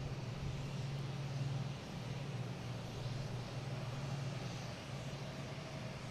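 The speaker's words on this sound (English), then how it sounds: "Next taking off is Delta heading to Kansas City in A220" A Delta Airbus A220 jet takes off at Boston Logan airport, a steady, distant low engine roar that holds evenly throughout with no talking.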